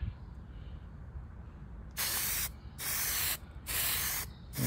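Aerosol spray paint applied to a 1957 Chevy in light coats, heard as three close, loud hissing bursts, each lasting around a second, separated by short pauses over a low background rumble.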